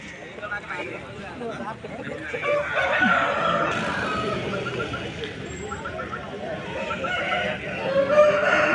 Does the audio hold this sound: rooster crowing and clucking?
yes